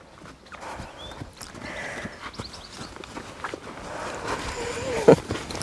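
A horse's hooves clop irregularly on the ground at close range, with shuffling steps and a short, sharp snort or breathy noise near the end.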